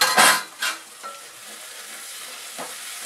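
Chopped tomato frying with onions in a pan, a soft continuous sizzle broken by a couple of loud spoon scrapes at the start and a few lighter stirs afterward, close up.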